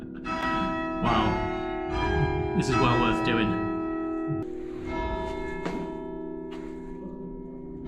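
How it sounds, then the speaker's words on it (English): Church bells ring with sustained, overlapping metallic tones and long resonant decays, struck repeatedly in a steady peal, while someone speaks briefly over the ringing. "And the bells are going off as well."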